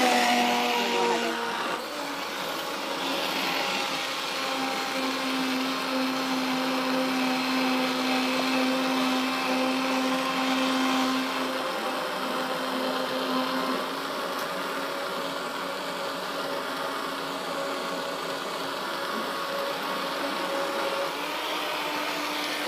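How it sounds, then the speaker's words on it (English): A Vitamix high-speed blender roars continuously at close range, a dense whirring that holds steady for over twenty seconds with a slight pitch shift partway. "you need a high-speed blender. So this is a Vitamix."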